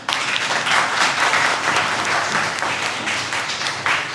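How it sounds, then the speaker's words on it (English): An audience at a youth assembly event in Lahore claps in a steady, dense round of applause that holds at a fairly even level throughout. "So I want you all to give a round of applause for all yourself."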